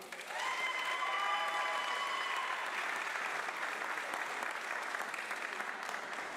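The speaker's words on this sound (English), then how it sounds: "Give them a round of applause." A crowd at a music academy recital applauds the drum students with sustained clapping and a few cheers, steady and fairly distant, tailing off slightly toward the end.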